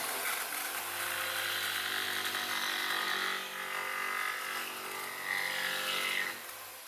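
A jigsaw rough-cuts a two-inch rounded corner off a wooden bookshelf panel, a steady buzzing motor whine with a rattling blade that holds for several seconds, then dips and trails off near the end.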